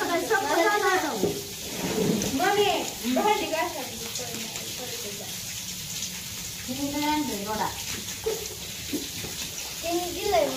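Steady, unceasing rain makes a soft, continuous hiss in the background while people talk over it throughout.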